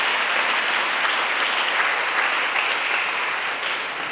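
Sustained applause from an audience at the European Charlemagne Youth Prize 2021 ceremony in Aachen, steady and full for the whole stretch with no voices over it.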